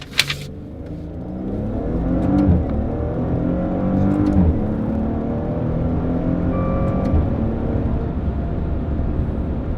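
A 2019 Maserati Ghibli S GrandSport engine hums and swells as it revs through several rises in manual mode, a continuous throaty exhaust note heard from inside, with no speech.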